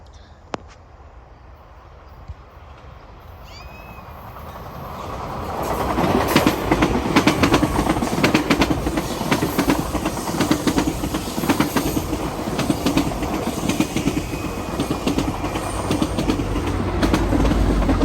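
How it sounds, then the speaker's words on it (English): A GO Transit train of ten passenger cars, pushed by an MP40 diesel locomotive, builds from near quiet into a loud, steady roll with rhythmic wheel clatter and hiss as the cars pass close by, continuing to the end. "pushing it with MP40 engine 626. And this had 10 passenger cars"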